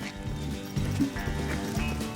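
A horse trotting with a rider during a long-distance ride through the Alsace countryside near Colmar, hoof clip-clops falling in a steady, close rhythm over a constant background with occasional whinny-like tones.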